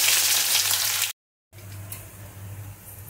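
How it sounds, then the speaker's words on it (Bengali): Chopped onion fries in oil with panch phoron, making a close, steady crackling sizzle that cuts out briefly to silence, then returns a little quieter. "দিয়ে দেবো পেঁয়াজ কুচি"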